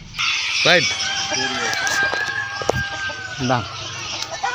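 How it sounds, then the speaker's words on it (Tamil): A rooster crows loudly and close by as it is held in someone's hands, with clucking mixed in, at an opening ceremony outdoors. The full crow comes early, then shorter calls, over a steady background din with voices. "எப்படி கூவுது பாத்தீங்களா என் கையில வந்த உடனே"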